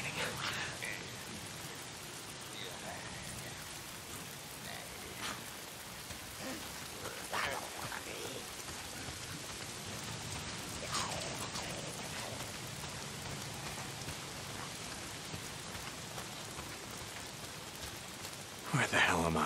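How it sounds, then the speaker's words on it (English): Steady rain falls in the video game Days Gone, a soft, even wash of drops hitting surfaces with the occasional louder spatter and a faint low rumble, while someone talks quietly over it. "If it's not the freaks, it's the goddamn rain."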